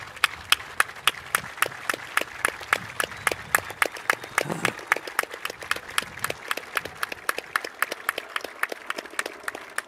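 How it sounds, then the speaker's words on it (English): An airshow audience applauds veterans, a steady run of sharp hand claps from a modest crowd, fairly distant and even throughout with no voices over it. "please rise so we can just give you a round of applause"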